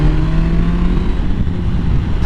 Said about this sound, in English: So the PCJ 600 was a bike in GTA that was literally a GTA version of the Suzuki Bandit.